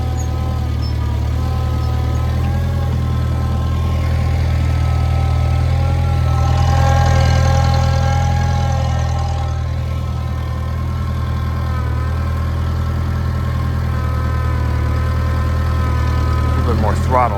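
Farmall Cub tractor engine hauling a heavy firewood trailer: a steady, close, low mechanical drone that swells briefly as the throttle is opened, then settles back to a constant working hum.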